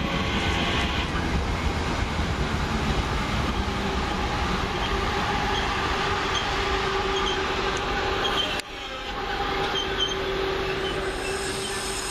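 A passenger train, 323217, rolls past close by at Perry Barr heading to Wolverhampton, a sustained loud rumble of wheels and carriages with faint squeals, continuing steadily to the end.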